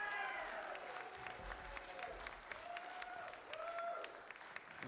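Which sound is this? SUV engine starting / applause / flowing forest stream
applause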